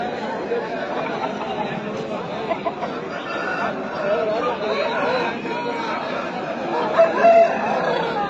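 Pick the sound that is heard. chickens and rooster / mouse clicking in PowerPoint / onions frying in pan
chickens and rooster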